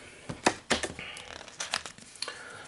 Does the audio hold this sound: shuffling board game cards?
yes